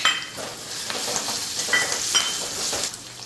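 Green chilies, curry leaves and potato fry in a pan, a close, steady sizzle with bursts of crackling and scraping stir strokes against the metal.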